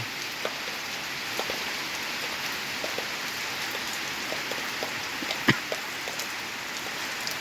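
Steady rain falls continuously on a surface, a soft even hiss with scattered individual drops tapping nearby.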